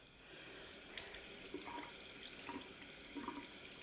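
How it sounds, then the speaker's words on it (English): Tap water runs faintly and steadily into a sink while hands are rinsed under it, with small splashes now and then. "I'm gonna wash my hands because they're all sweaty and gross. I'm just gonna rinse them off."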